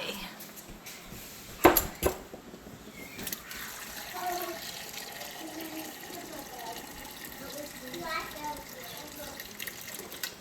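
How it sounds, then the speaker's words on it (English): Water is poured over elderberries in a Dutch pot, a close splashing fill with clinks of the pot and utensils, while a person talks intermittently over it. "And then I'm going to just cover it with water."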